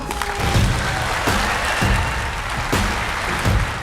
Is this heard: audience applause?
yes